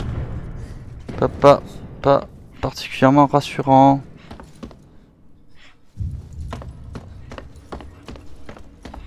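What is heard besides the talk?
footsteps in the video game Alien Isolation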